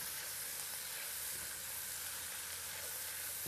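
Seafood jambalaya cooks in a pot with parsley stirred in, giving a steady, even sizzle and soft hiss that runs unbroken, close and moderately loud, with no voices.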